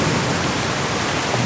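Heavy tropical rain pours down steadily on a remote island camp, a dense, loud, unbroken hiss with no voices.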